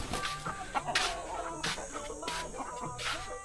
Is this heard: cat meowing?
no